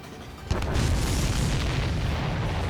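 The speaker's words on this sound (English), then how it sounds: "Did you see that explosion?" A deep, booming explosion in the aerial combat video game Ace Combat 7, a sudden loud blast followed by a sustained roaring rumble that fills the rest of the moment.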